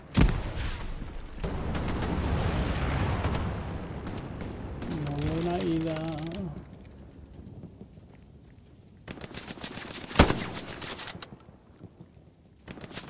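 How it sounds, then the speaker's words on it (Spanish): Gunfire in the WWII shooter Hell Let Loose: dense bursts of shots and rumbling blasts at the start, then a lull under a voice talking, and renewed loud cracking fire with one sharp, close report near the end. "¿A quién dispara ese? ¿Y desde dónde?"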